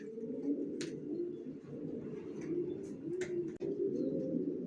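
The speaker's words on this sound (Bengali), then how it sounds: "এখানে এক জোড়া অ্যাডাল্ট কবুতর দেখাচ্ছি" A pair of adult racer pigeons coo continuously in low, rolling murmurs close by, with a few faint higher chirps and a brief knock, no speech.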